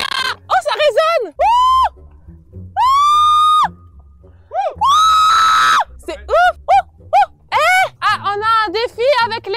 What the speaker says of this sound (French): C'est ouf, ça a résonné, mais tout là-bas, là-bas, là-bas, là-bas.